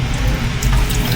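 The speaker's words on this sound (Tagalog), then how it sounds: "Kaya humina na yung tagas ng tubig" Water runs steadily from a tap, a continuous close splashing rush with no other sounds.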